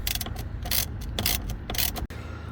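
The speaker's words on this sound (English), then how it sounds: "you want to remove this 13mm bolt holding the steering wheel" A ratchet loosens the 13mm bolt holding the steering wheel of a Chrysler Town & Country minivan, giving close, steady clicking bursts with a brief pause near the end.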